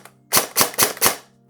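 A Novritsch SSR90 airsoft gun fires four sharp, evenly spaced semi-auto shots in quick succession, loud and close, with no talking.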